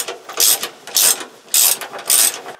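Four quick bursts of a ratchet wrench tightening bolts on a narrowboat water tank cover, rapid clicking strokes close up with short pauses between them.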